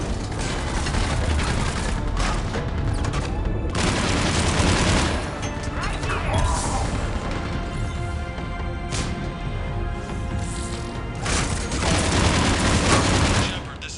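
Sustained gunfire and rocket launcher blasts in a Mass Effect battle, a dense, loud stream of rapid shots with heavy booming bursts near the start, middle and end, continuous across the whole stretch.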